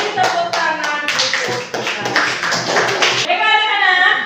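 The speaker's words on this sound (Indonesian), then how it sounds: "Beri tepuk tangan" Classroom students clapping together in a quick, rhythmic pattern of close, loud claps, with voices mixed in and a spoken voice rising at the end.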